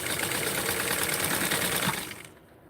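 A home sewing machine stitches a small doll garment, running with a fast, even mechanical whir up close before slowing and stopping near the end.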